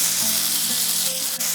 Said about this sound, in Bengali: তেল বেশ ভালো করে গরম হয়ে গিয়েছে। এরপর এখানে দিয়ে দিচ্ছি কুচিয়ে রাখা গাজর